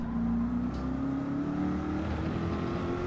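Race car engines drone steadily in Gran Turismo 7 as cars cross the finish line, a smooth rising whine held at moderate level throughout with no talk over it.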